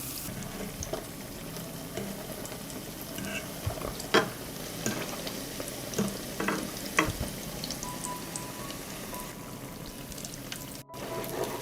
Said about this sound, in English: I fry the dough for a few minutes on both sides.